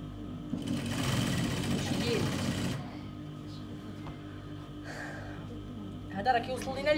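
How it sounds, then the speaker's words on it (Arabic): Sewing machine stitching the lining of a double-breasted coat, running in a steady, dense whir for about three seconds, then quieter handling noises and a brief second burst, with someone talking over parts of it. "وغادي نخيط"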